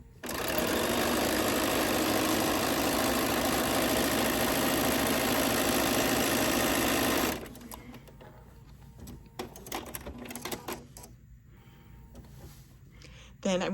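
A sewing machine stitches a straight quilting line through fabric layered on flex foam, a loud continuous whirring run for several seconds, then stopping and giving way to quieter handling clicks and rustles.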